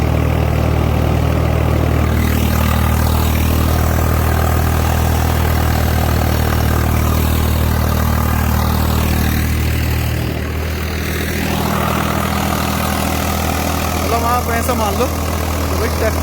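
A tractor engine runs steadily with a deep, constant low rumble throughout, its tone shifting slightly partway through.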